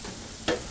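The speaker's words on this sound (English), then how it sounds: "So that's frying away nicely." Squid dusted in corn flour, salt, pepper and spice frying in hot oil in a bistro kitchen, a steady close crackle with one brief louder burst midway.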